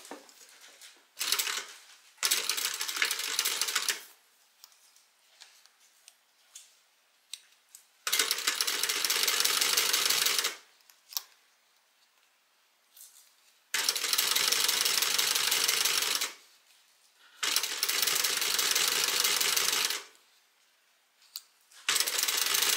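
A sewing machine running top stitching in repeated bursts of steady rapid needle clatter, each lasting a few seconds, separated by quiet pauses, loud and close.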